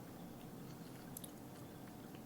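Fruit-flavoured chewy candy being chewed, a faint close mouth sound of soft wet chewing against steady low background noise.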